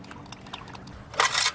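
Engine oil pours into a car's engine through a funnel cut from a water bottle, a short, steady liquid gush rising near the end after a quiet moment.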